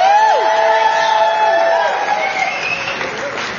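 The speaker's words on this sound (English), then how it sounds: "Let's give a big round of applause for Scotty Moose." At a Tacoma live-painting art event, the crowd applauds and cheers for artist Scotty Moose, with whoops and rising shouts ringing over steady clapping that gradually fades.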